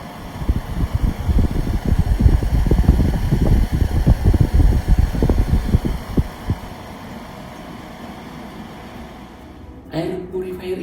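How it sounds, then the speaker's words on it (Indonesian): A Coway AP1008DH air purifier fan at top speed 4 gives a loud, steady whooshing hum with rumbling bursts that settle into a smoother drone. "makin kenceng ini suara kipasnya akan semakin berisik"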